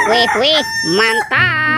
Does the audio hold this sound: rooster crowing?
yes